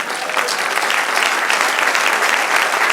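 Church congregation clapping during a service, a loud, dense and even burst of applause close by, continuing without pause.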